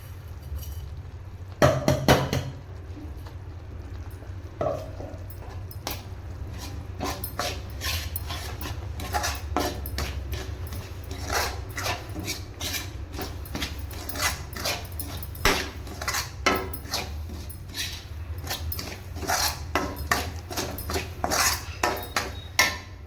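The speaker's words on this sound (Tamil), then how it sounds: "நம்ம இப்போ அரைச்சி வச்சுருக்க இந்த பொடியை போட்டு கிண்டிக்கலாம்" Ground millet powder is stirred into sugar syrup for millet burfi, with a ladle repeatedly scraping and knocking against the metal pan in quick, rhythmic clicks.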